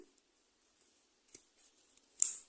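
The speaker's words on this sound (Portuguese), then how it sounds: "Vou fazer uma correntinha e então eu já posso cortar o meu fio." Scissors snip crochet thread while finishing a crocheted table centrepiece, giving one crisp close cut near the end after a few faint handling rustles and small clicks in near silence.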